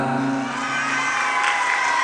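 Audience at a public religious gathering cheering and clapping for the regent, a steady, loud wash of crowd noise with whoops rising near the end.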